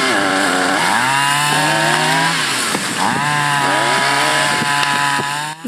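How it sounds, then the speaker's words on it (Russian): Chainsaws cut through ice-damaged trees after freezing rain, engines revving loudly and close, rising and falling as blades bite into wood, with no voices heard. "Звуки бензопил не умолкают по всему Соловьиному краю."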